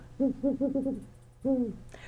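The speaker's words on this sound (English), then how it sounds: "there are owl walks where they take tape recorders out and they call owls" An owl gives a rapid series of five or six low hoots, followed by a pause and one longer hoot, close and clear against a quiet background.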